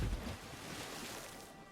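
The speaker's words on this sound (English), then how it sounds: "Why did that make a splashing sound when the ground was dry right there?" A splash in Elder Scrolls Online: a brief wash of broadband water noise that fades into a steady, surf-like hiss lasting well over a second, fairly quiet and with no talking.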